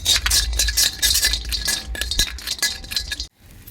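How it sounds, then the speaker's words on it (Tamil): Turmeric being dry-roasted in a metal pan to make chilli powder, with busy close clinks and rattling scrapes of a spoon stirring, stopping abruptly near the end. "இந்த மஞ்சளையும் போட்டு நல்லா வறுத்துக்கலாம்."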